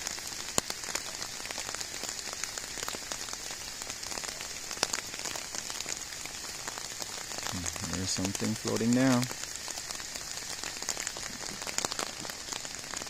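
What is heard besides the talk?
heavy rain during flooding from tropical storm in Belize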